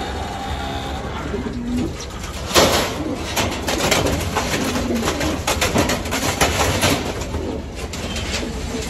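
Pigeons coo in a bird loft, a steady murmur of soft cooing under broadband background noise with a louder rustle partway through.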